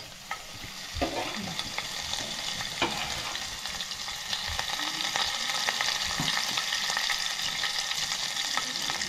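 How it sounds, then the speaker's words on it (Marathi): Mustard seeds and curry leaves crackle and sizzle in hot oil for a tempering, a dense, steady spitting hiss with scattered sharp pops, close and continuous with no voices. "राई थोडी आता तडतडले"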